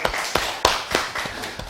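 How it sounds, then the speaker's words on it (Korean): People in a Greek grammar class clap their hands together in an even, steady rhythm, with crisp repeated claps about a third of a second apart. "남자들, 여자분들 위해서 박수 한번 쳐줘요."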